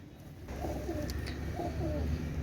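Oman Teddy pigeons, a male and female pair, coo softly in two low, rolling phrases over a steady background hum, close by and fairly quiet.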